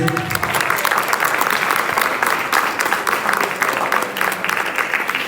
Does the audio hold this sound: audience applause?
yes